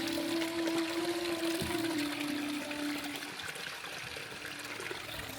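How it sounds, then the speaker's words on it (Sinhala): Streams of water rush down the snowy slopes of Ben Nevis in Scotland, a steady broad outdoor wash of flowing water with a faint tonal hum early on. "වතුර පාරවල් ඉතින් හැම තැනම"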